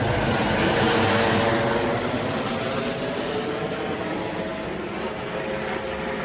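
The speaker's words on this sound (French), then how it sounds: "juste l'hélico quoi." A helicopter flies overhead above a landscaper's garden, its loud, steady rotor and engine roar filling the air and fading only slightly over several seconds.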